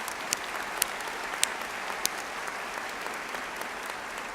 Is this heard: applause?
yes